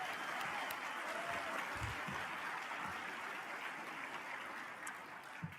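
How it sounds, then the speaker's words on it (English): A conference hall audience at a general session applauds an army division band, a soft, continuous wash of many clapping hands heard at a distance, steady throughout and fading slightly at the end. "So let's give another round of applause to the Army Division Band."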